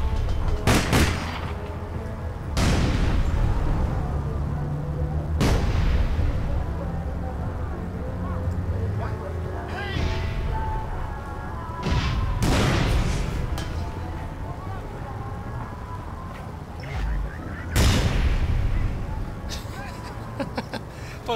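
Grenade launcher explosions in the online shooter APB: several heavy booming blasts spaced a few seconds apart over steady gunfire and game noise, with a player talking throughout.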